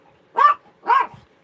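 A dog indoors gives two loud, close barks in quick succession, each short and sharp, the second trailing off into a faint soft sound in an otherwise quiet room.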